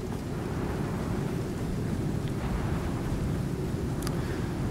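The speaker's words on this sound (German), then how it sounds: "Ja, auch noch Sturm jetzt, war ja klar." A stormy scene in the survival video game ICARUS, in a swamp biome, with a steady roar of wind and rain and low rumbling thunder, constant and fairly loud, no talk.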